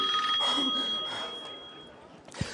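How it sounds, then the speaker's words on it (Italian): A telephone rings in a TV studio during a live call-in show, a steady electronic ring held for about two seconds before fading, followed by a short low thump. "Ah, il telefono"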